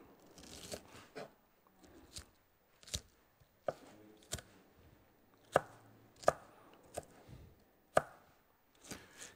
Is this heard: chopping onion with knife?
yes